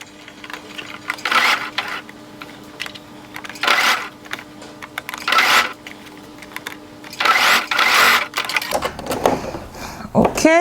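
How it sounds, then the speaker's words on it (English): Domestic sewing machine stitching a shawl collar in bursts of rapid mechanical whirring, four or five short runs separated by pauses, with a faint steady hum underneath. "you leave your needle inside, lift up your presser foot, adjust this a little bit, and then you continue stitching"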